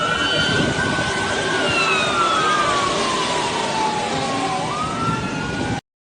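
An ambulance siren wails continuously throughout, its pitch sliding and sweeping up and down over steady loud traffic noise, without a break.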